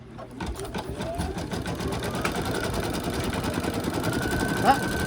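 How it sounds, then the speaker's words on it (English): An embroidery sewing machine stitches an outline onto cork, its needle hammering in a fast, even mechanical rhythm under a steady motor hum, close and continuous throughout. "It's going to stitch down the outline on the cork."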